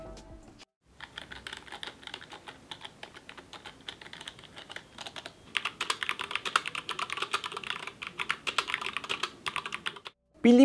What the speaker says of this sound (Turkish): Birazdan duyacağınız ses kaydında Apex 3 ile 10 parmak yazı yazdık.